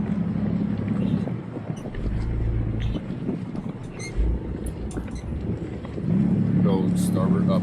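Engines of a 1990 Bayliner 3888 motor yacht rumble low as the throttle is raised, the drone swelling in bursts amid wind buffeting on the microphone, with people talking over it.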